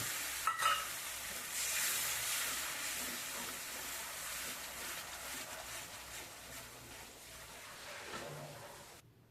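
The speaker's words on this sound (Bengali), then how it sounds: "দিয়ে দিচ্ছি পরিমাণ মতো জল" Water is poured into a hot pan of fish curry, giving a brief clatter and then a loud, broad hiss and sizzle that slowly settles over several seconds.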